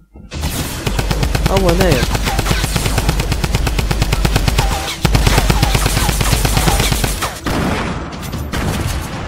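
Loud, sustained automatic gunfire from the video game Fortnite hammers on almost without pause, with continuous rapid shots and a brief gap midway, while a player speaks briefly over the shooting.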